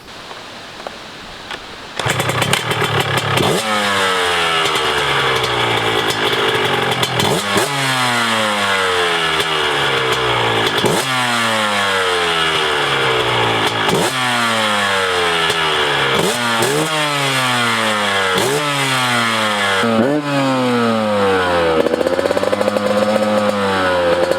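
A 2017 TM 144MX two-stroke motocross bike revs hard and loud up close, climbing repeatedly through rising, buzzing sweeps with brief drops between each rev for over twenty seconds.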